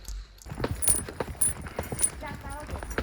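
Horse hooves clip-clop steadily on a trail as two horses move along in a first-time pack string, the rhythmic steps close and moderately loud, with faint metallic jingling of tack mixed in.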